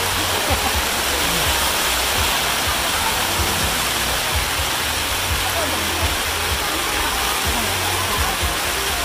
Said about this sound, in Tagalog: Grabing ulan talaga.